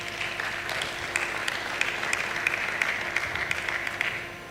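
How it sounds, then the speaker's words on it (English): Conference audience applauding, a dense sustained wash of many hands clapping at moderate distance, holding steady before tapering slightly at the end. "I also think that they deserve a round of applause"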